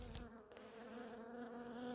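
Honeybees buzz steadily at a beehive, a continuous close humming drone with a steady pitch and no voices.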